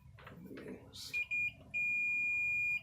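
Digital multimeter on its continuity setting, two short high beeps followed by a long steady tone, faint handling noise before it.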